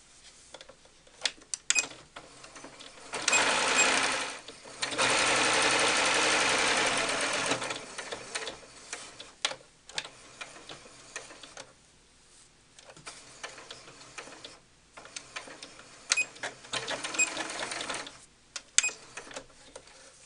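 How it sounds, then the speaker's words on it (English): A sewing machine stitches cloth doll pieces in several separate runs, some long and steady, others short and stop-start, with clicks and handling noises between the bursts. "I'm going to sew around the edge, keeping a 1/4 inch away from the edge"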